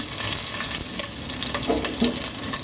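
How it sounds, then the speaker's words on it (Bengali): Slit green chillies, five or six of them, crackle and sizzle loudly in hot oil in a pan, a dense, close spitting sound with a few sharper pops and no voices. "আমি একটা প্যানে তেল দিয়ে দিয়েছি। এবার এর মাঝে দিয়ে দিব আমি 5-6টা কাঁচামরিচকে"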